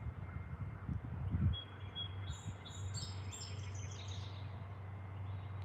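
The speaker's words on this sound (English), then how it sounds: "You hear those birds chirping?" Small birds chirp outdoors in short, high calls, mostly in the second half, faint against a steady low hum and a brief thud of handling noise early on.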